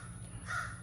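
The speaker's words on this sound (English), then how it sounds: "That bird is going off right now." A crow caws outside, one drawn-out harsh call rising over steady low background noise, moderately near and fairly loud.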